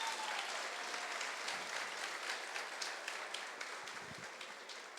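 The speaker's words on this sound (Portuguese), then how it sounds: "Uma salva de palmas para os nossos irmãos aqui." Steady applause from a congregation during a church service in Brazil, dense clapping holding at an even level throughout, fairly distant and without voices on top.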